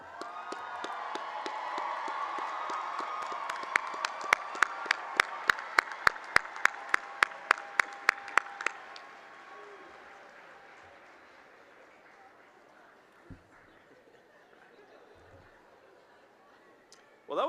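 A graduation commencement crowd cheers and applauds as nursing graduates come forward, with broad sustained applause, a burst of rhythmic unison clapping in the middle, then the noise fading to a quieter murmur.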